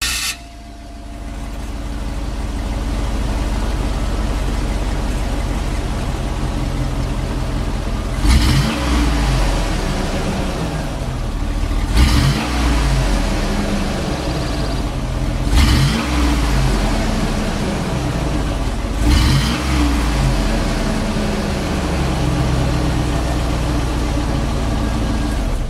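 A 2000 GMC Yukon with a 5.3 engine idles steadily up close, then revs sharply four times in evenly spaced bursts that rise and fall back to idle, with no talking.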